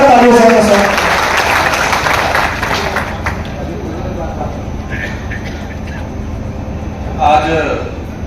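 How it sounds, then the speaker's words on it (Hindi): Audience applause at a traders' convention in Bulandshahr, Uttar Pradesh, loud and dense at the start, then fading into a steadier hum of clapping and crowd noise, with a voice speaking over it toward the end. "बहुत जोरदार तालियों से सर।"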